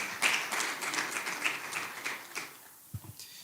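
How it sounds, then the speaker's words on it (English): Moderate applause from a small group that tapers off near the end, followed by a couple of faint thumps. "Please, can we clap for them once again"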